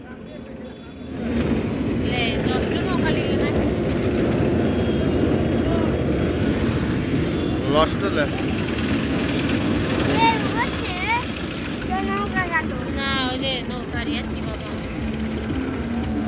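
A motor boat engine drones steadily up close, its propeller fouled with tangled taro plants, while several people talk over the continuous hum.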